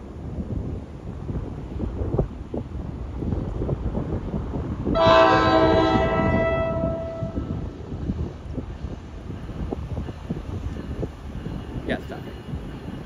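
An NJ Transit train rumbles steadily nearby at North Elizabeth, New Jersey, and a loud horn blast sounds partway through before fading, with wind buffeting the microphone.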